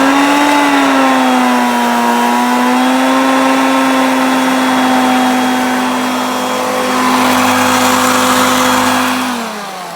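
A Hoover Concept Two self-propelled upright vacuum cleaner runs on low speed, a loud, steady motor hum with a droning tone that holds evenly, then begins to wind down at the end.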